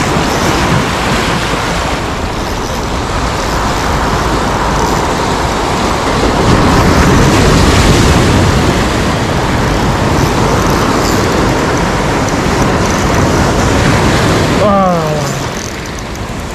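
High sea waves and surf crash continuously during a fishing trip, making a loud, dense roar with wind buffeting the microphone and a brief voice near the end.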